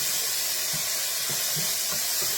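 About two tablespoons of garlic sizzling in a hot pan while making stuffed cabbage, a steady broadband hiss with faint crackles, close and continuous with no talk.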